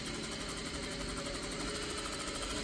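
Sewing machine stitching a diagonal seam across fabric for a wrap skirt, a steady fast mechanical whirr with an even rhythmic rattle throughout.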